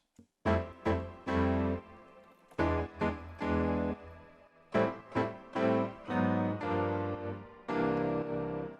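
Chords from a pop track, bright sustained stabs struck in short rhythmic groups with gaps between, played alone at moderate level.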